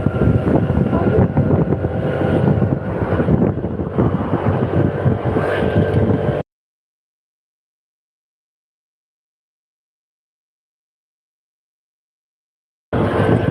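A car drives on a road, heard from inside: a steady low rumble with wind buffeting, then it cuts to total silence partway through before briefly returning at the end.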